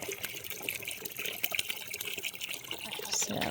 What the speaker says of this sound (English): Their water was low, so we're filling up their water right now.